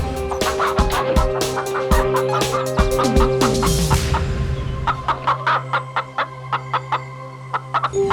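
Chickens clucking and squawking up close, with a burst of busy calls that thins into scattered sharp clucks, no talking.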